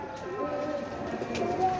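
Soft pigeon cooing repeats steadily over a continuous low background murmur, with occasional faint chirps mixed in.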